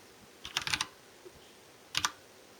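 Two short bursts of keystrokes on a computer keyboard, a quick cluster of taps followed by a second brief flurry, close and fairly quiet with no talking.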